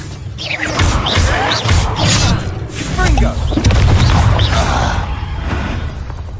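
Confringo blasting spells in Hogwarts Legacy on PS4 Pro: a chain of booming explosions and crashes, loud and close, under a voice shouting spell names.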